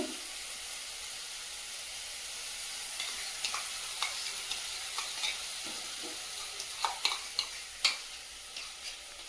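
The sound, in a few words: stir-frying tomato with sour curd for fish kalia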